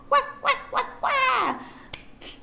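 Loud honking calls from a duck, three short honks followed by a longer drawn-out one, then a couple of fainter honks; no talking.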